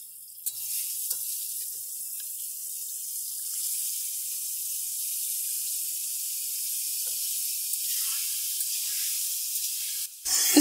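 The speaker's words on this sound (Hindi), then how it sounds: "अब हम इसमें 3 पाव चिकन ऐड करेंगे। चिकन को हम फ्राई करेंगे।" Chicken sizzles in hot oil in a karahi as a steady, bright hiss, with a soft clatter at the start and a louder knock near the end.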